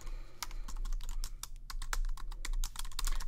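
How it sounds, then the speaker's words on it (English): Steady, fast typing on a computer keyboard, with dense, close clicks in an irregular rhythm and a low hum beneath, no talking. "I'm typing out the script"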